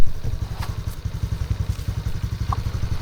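A motorcycle engine runs close by in a throbbing, rhythmic chug, with occasional light clatter and thumps over it.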